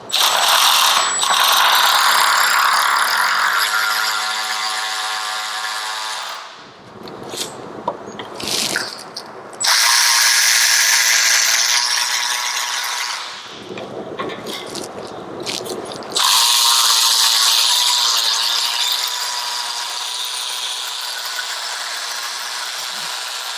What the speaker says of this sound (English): apply pressure in between the bracket and the sensor and then run out the bolt